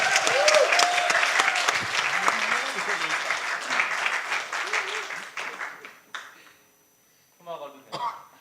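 A church congregation at a baptism claps loudly and steadily, the applause tapering off with a cough and a brief pause before a voice begins speaking.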